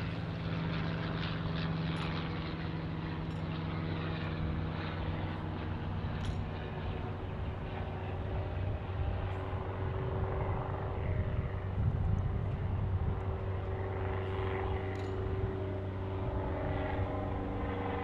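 A Boeing aircraft landing on runway 32 left at Boeing Field in Seattle makes a steady, loud engine roar that holds evenly for the whole stretch, with no voices over it.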